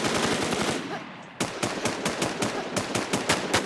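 Rapid automatic gunfire in the shooter game Infestation, with loud close bursts of evenly spaced shots, a short pause, then another fast steady string of shots.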